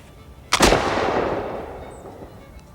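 A Harpers Ferry flintlock rifle fires once outdoors at Fort Clatsop, a sharp close crack followed by a long rolling boom that decays over about two seconds.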